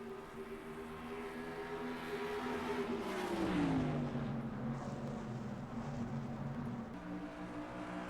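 Race cars in the NASCAR Racing 2003 video game at Pikes Peak International Raceway, a continuous engine drone whose pitch sweeps down as a car passes, then steadies at a lower tone.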